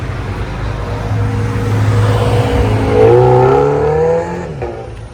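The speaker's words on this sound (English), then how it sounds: "Listen to those engines purr." Classic car V8 engines, including a 1962 Oldsmobile Starfire, rumble steadily with a deep throaty tone at a car show, one revving up and rising in pitch before settling back down.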